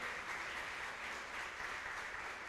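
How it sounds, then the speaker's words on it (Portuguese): Steady, continuous applause from a church congregation, a dense wash of clapping that holds at an even level throughout without any voices. "Você pode aplaudir Jesus um pouquinho?"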